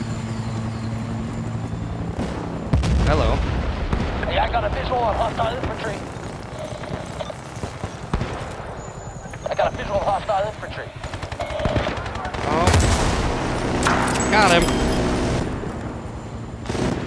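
A stationary mounted gun fires in a video game, loud rapid bursts repeating across the scene alongside explosions, engine noise and other battle sounds, with voices talking at times.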